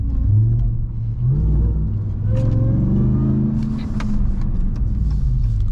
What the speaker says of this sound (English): I can't stop loving that sound, man. That supercharger.